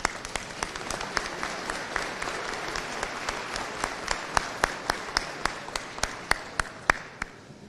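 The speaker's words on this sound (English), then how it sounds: "faculty with a round of applause." A commencement audience at Bethany College in 2024 applauds its faculty: a dense wash of crowd clapping with a nearby clapper striking crisp, regular hand claps throughout, growing slightly stronger toward the end.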